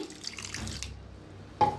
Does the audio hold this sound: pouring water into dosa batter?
yes